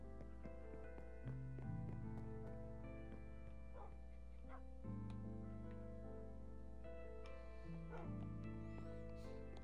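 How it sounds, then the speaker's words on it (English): Small dog yipping and barking in the video game Minecraft: a few faint, short yips scattered through a sustained musical background, with no voices. "I hear little dog barkings."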